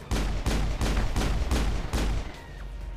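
Heavy gunfire and a rocket blast in a shooter video game, a rapid run of loud booming shots at a steady rhythm that ends in a long rumbling fade.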